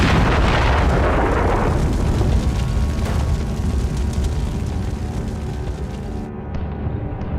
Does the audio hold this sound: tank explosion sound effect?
yes